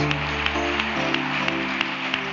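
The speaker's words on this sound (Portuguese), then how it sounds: "Se é para o Senhor, melhor essas palmas." A church congregation claps in a steady rhythm during a Sunday evening Baptist service, regular beats standing out over sustained music or singing underneath.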